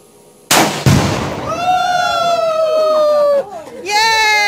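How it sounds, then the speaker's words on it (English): A gunshot strikes a gender reveal powder target outdoors: a loud sharp crack, then a second quick burst as the powder poofs, followed by excited high-pitched cheering and shouting. "That's a poof."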